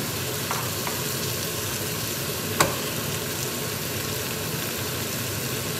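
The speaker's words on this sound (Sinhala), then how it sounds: "දැන් මේක හොඳට කලවම් කරන්න" Pumpkin curry with chili powder being stirred in a pan, a steady close sizzle with faint scraping and one sharp utensil clank partway through, no talking.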